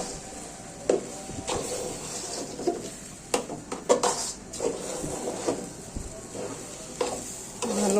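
Bhuna khichuri with masoor dal being stirred in a pot, giving irregular scraping and clacking strokes with a faint sizzle beneath, close and moderately loud.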